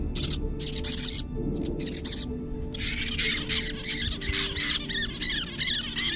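Parrots caught on glue traps in farm fields squawk loudly and harshly, several birds calling in repeated overlapping bursts over a steady noisy background.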